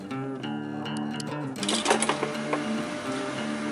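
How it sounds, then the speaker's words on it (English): A sewing machine stitches the main panel of a rollup backpack, its needle rattling in a quick mechanical burst that starts partway through, over a soft steady tonal hum. "let's start sewing on the main panel"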